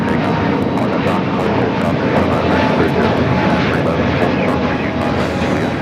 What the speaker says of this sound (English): This is Spirit Airlines 2523 taking off to Fort Lauderdale on the A320neo.